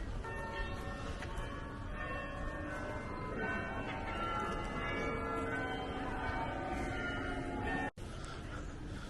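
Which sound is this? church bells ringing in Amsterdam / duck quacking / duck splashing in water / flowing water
church bells ringing in Amsterdam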